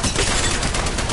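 Dense, rapid gunfire rattles loud and close in a video game as shots fly toward the player, an unbroken burst of overlapping reports.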